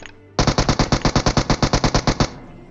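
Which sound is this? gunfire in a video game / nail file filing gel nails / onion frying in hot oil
gunfire in a video game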